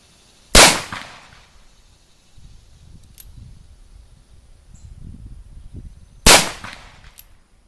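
Two sharp, loud revolver shots from a Cimarron Pietta Frontier single-action .45 Colt, fired two-handed outdoors about six seconds apart, each with a brief echoing tail over faint insect chirping.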